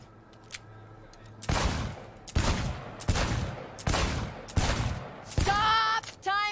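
Six loud, evenly spaced gunshots ring out at a shooting range in Cyberpunk 2077, each with a sharp crack and a brief tail. A metallic clatter follows near the end after a quiet start.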